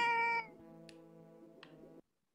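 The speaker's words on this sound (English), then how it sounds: "Bob the cat is back." Cat meows in the video game Mother 3, a short game-sound mew with a bright opening note drawing out into a sustained tone, then cutting off sharply, close and clear with no talking.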